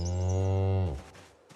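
A cow in the video game Project Zomboid lets out a single long, loud moo close by, holding steady for nearly a second before cutting off into quiet ambience.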